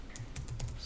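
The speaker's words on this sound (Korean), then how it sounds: "그냥 타자 하는 걸로 하겠습니다" Keys clicking on a computer keyboard during accounting software data entry, a short quick burst of separate taps close up with no talking.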